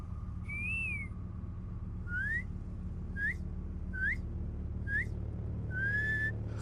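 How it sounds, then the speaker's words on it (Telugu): A man whistles in a Telugu movie scene, giving about six short, bright rising whistles in an uneven rhythm over a steady low background hum, with no talking. "రేడియోలో విజిల్ కొడతావు కదా"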